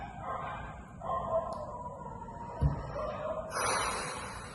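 A dog gives a few yipping barks and whines at middle distance, mixed with background talk and noise.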